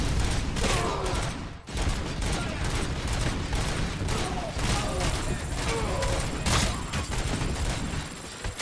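Heavy sustained gunfire aimed at Robocop in a violent action game, rapid crackling volleys and sharp bursts continuing throughout at steady loudness with a brief gap early on.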